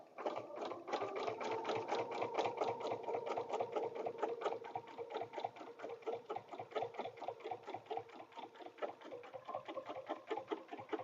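A sewing machine runs steadily, stitching through a large paper-pieced template with a rapid, even mechanical chatter, close and continuous with no talk.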